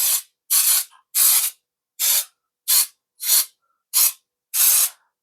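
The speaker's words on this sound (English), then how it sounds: "give it a light spray." Cooking spray hisses onto a muffin tin in eight short, evenly spaced bursts, each a crisp close hiss separated by brief silences.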